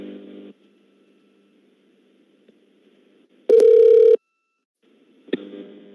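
A telephone line drops after a prank call to phone support: a faint low hum fades out, then a short, loud, steady single tone sounds for under a second, followed by a brief click and more low line noise.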